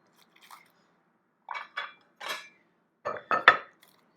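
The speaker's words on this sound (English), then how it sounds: "Your first step is to cut your pastries in half." A knife cutting freshly baked puff pastries in half, with a few short crisp crunches as the blade breaks the flaky shells, separated by brief silences.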